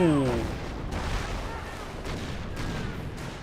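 An artillery barrage in Company of Heroes: a dense, continuous roar of distant booms and rumbling impacts that rises and falls, with a voice briefly heard at the start.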